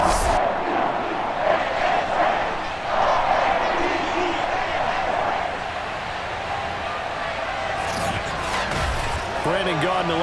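Broad, steady roar of a stadium crowd in a Ravens versus Browns football video game in Baltimore, filling the whole clip at a loud, even level with no words spoken.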